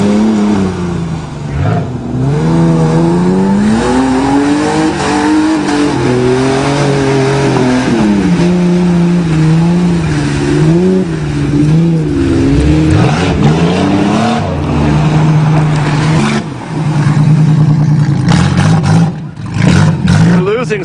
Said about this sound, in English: Yeah, give her shit. Reverse donuts.